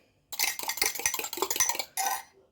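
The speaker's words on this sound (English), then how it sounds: "I'm going to crack an egg and brush the top with some egg." An egg cracked and clinked against a bowl while making apple turnovers, giving a close run of sharp taps, clicks and wet kitchen clatter, then a brief pause and a final burst of handling noise.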